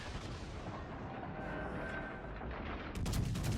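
Warship secondary batteries fire in World of Warships Legends as a dense, continuous rumble of gunfire and booming shots, growing heavier and sharper near the end.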